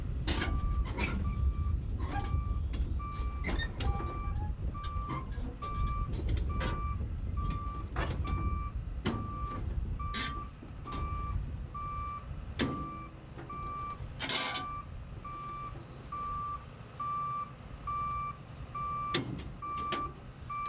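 A John Deere excavator creeps up onto a trailer, its engine rumbling steadily up close while a repeated travel alarm beeps at an even pace, with a few sharp clanks along the way.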